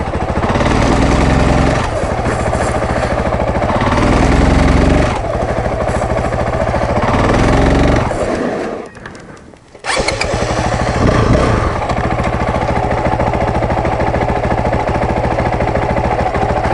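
A Honda CRF450L motorcycle engine with a newly installed Rekluse Radius CX clutch is run in second gear during clutch break-in, revving loudly in repeated rough, pulsing bursts and dropping briefly toward idle midway before revving again.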